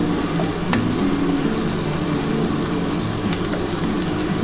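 Teasel gourd and potato fry in a pan with a steady, dense sizzle that runs unbroken and close, with no one speaking.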